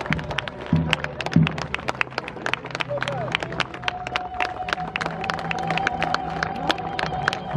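Outdoor crowd applause after a Thirty Years' War battle reenactment in Červená Řečice, steady scattered clapping throughout while someone speaks over a loudspeaker.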